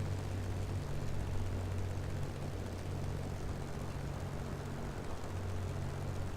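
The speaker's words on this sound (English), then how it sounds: "We're starting to wobble the plane around a little bit here to bleed off a little bit of airspeed." A Spitfire IIa fighter flies in a flight simulator game during a Battle of Britain event. Its steady propeller engine drones low and constant with a faint, slightly wavering hum and a rushing airflow noise, and no one speaks.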